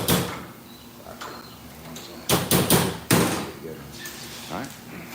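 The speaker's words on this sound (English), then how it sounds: "just take your hammer and kind of collapse it again" A hammer strikes a 4L60E transmission part to collapse it back down, giving a quick cluster of several sharp, loud metallic knocks in the middle, with a few softer taps and workshop rustle around them.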